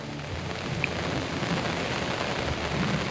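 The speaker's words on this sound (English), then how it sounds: "Hear that thunder?" Rain pours steadily at a state park, an even close hiss with a soft low rumble of thunder beneath it, no one speaking.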